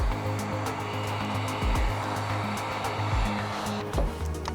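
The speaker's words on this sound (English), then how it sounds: "take your heat gun, go back over every edge, make sure everything is heated down and nothing's flapping" A heat gun blows hot air over the vinyl wrap edges on a Tesla Cybertruck, a loud continuous whooshing roar with shifting low hum as it is moved along the panels, no voices.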